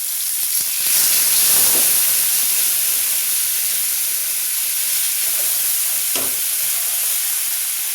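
Water poured into a pan of frying cumin, chilli and ginger pastes with turmeric hisses into a loud, steady sizzle and steam, with faint stirring scrapes throughout.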